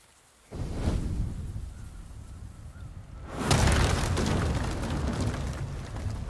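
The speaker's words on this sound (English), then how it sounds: "That was quite a big explosion, wasn't it?" A big explosion in the samurai video game Ghost of Tsushima, a sudden low rumbling boom that swells into a broad roar and stays loud, with no talking.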